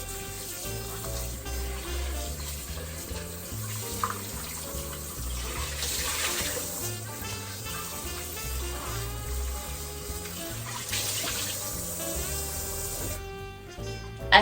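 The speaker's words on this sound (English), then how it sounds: "so we're just going to wash these off" Peeled green bananas are rinsed under a running kitchen tap, with water pouring continuously into a sink and splashing over the fruit for a long stretch, steady and close.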